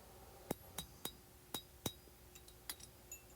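Sharp metallic clinks and taps in a knife-forging shop while a Bowie knife is forged, a series of quick strikes of uneven spacing, fairly faint, with one or two louder ringing hits against a background hiss.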